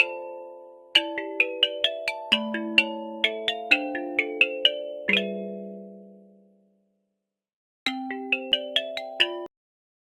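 A melodic telephone ringtone plays a rising and falling run of bell-like tones, pauses briefly, then repeats. It is clear and fairly loud with no voices.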